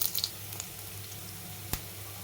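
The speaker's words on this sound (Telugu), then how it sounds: "ఆవాలు, జీలకర్ర వేసి వేయించాలి." Mustard seeds, cumin and dried red chilies fry in hot oil for an ajwain leaf dal, giving a faint, steady sizzle with a sharp pop partway through.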